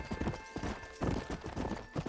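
Horse hooves clip-clop in the Red Dead Redemption video game, a steady uneven rhythm of close, fairly loud hoof beats on hard ground with a faint background hum.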